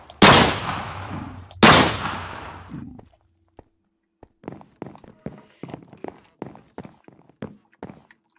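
Two loud, sharp gunshots with decaying tails in the video game McDonald Mystery 2, followed by a run of faint, quick footstep-like taps.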